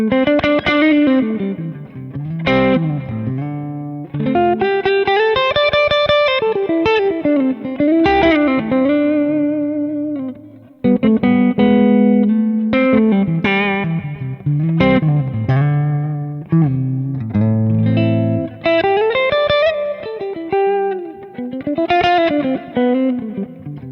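An electric guitar through a Kemper amp profiler plays melodic single-note lines and chords with a distorted, amp-like tone, loud and upfront, with a brief pause midway.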